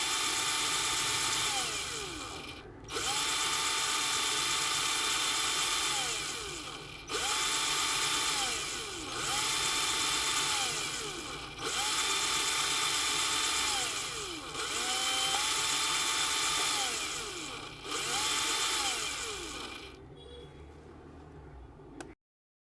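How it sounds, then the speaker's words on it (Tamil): Screws being driven out of a microwave oven's shield with a star screwdriver, heard as a loud, steady motorized whirring in repeated bursts of about two seconds with brief pauses between, ending in quieter noise. "இந்த மாதிரி ஒரு ஸ்டார் டைப் ஸ்க்ரூ ட்ரைவர் வச்சு இந்த ஷீல்டுக்கு வர எல்லா ஸ்க்ரூவையும்"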